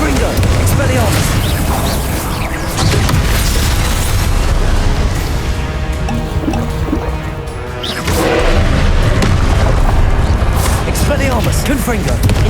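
Confringo explosive spell blasts from Hogwarts Legacy boom loudly and repeatedly amid dense game combat noise, with voiced spell calls heard in the mix.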